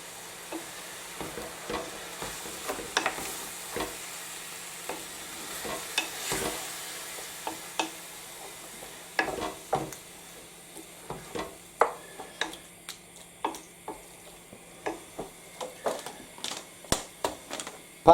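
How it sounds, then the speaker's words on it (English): Veggie chilli with tinned chopped tomatoes stirred in a pan, giving a long run of irregular scraping and clacking spoon strokes over a soft, steady sizzle, moderately close and with no talking. "Give it a stir."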